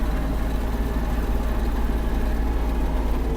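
Kubota GL-320 Japanese mini tractor engine running steadily while the tractor turns in place, a continuous low diesel drone at even loudness with no speech.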